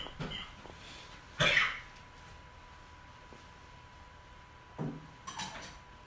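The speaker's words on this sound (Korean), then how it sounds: "제가 이렇게 힘겹게 기침을 해야" Two or three harsh coughs break a quiet room during an early-morning church prayer service, spaced a few seconds apart, with faint clinks of dishes in between.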